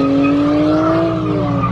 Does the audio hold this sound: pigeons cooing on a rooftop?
no